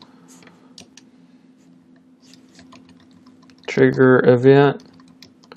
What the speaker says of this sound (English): Let me type it out first.